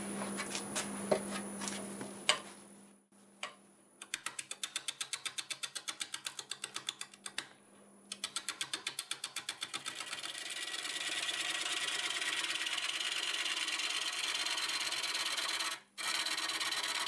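Black oak spinning on a wood lathe near 500 RPM as a freshly sharpened 5/8 swept-back bowl gouge cuts it, giving a rapid rhythmic ticking of intermittent cuts that becomes a steady loud scraping hiss, with the motor hum underneath and a short pause near the end.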